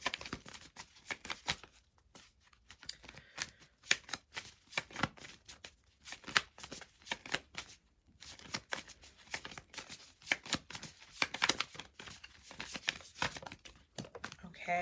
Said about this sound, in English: Okay, so a few cards fell.